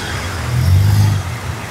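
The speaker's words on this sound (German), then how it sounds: "Ein schöner LKW." A large lorry rolls past in the street with a low rumbling drone that swells to a peak around the middle and then recedes, heard alone with no talking.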